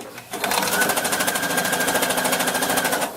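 Sewing machine stitching a blanket runs in one steady burst of rapid, even mechanical clatter, close and loud, starting just after a brief quiet moment.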